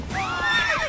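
A horse in the video game The Witcher 3 gives a loud, long whinny that climbs and trembles with fluttering, falling tails, close and clear with no talking over it.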